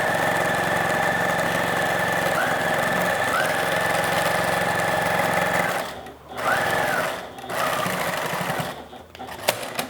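A sewing machine runs steadily for about six seconds as it stitches elastic into the sleeve of a baby bodysuit, then stops and starts in short bursts, close and clear.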